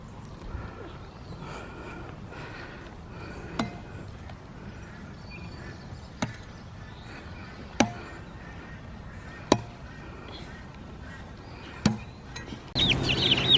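Growing chicks and a possible young rooster on a homestead: soft, scattered clucks and murmurs over a low outdoor hum, broken by several sharp, evenly spaced knocks or chops, with a rustling burst at the end.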